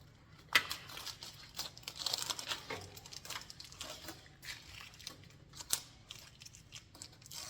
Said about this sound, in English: then you can go ahead and remove your tape from everything.